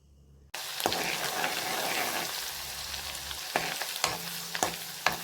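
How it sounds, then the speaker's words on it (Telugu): Ginger garlic paste hits hot oil with a sudden burst, then sizzles steadily for prawn pickle while a spoon stirs and scrapes the pan in several sharp strokes. "ఇలా మరుగుతున్న ఆయిల్లో అల్లం వెల్లుల్లి పేస్ట్ ఒక టీ స్పూన్ వేసి పచ్చివాసన పోయినంత వరకు వేపాలి"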